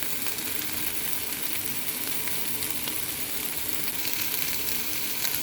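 Onions and peppers frying in a pan for paleo cilantro lime chicken, a steady, dense sizzle that holds evenly close up throughout with no talking.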